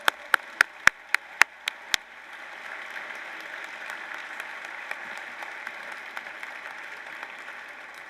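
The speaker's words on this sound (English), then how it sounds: "Don't do these golf claps, let's go." Audience at a youth advocate of the year awards ceremony, a few loud separate hand claps at first, then a steady wash of applause from many people that carries on.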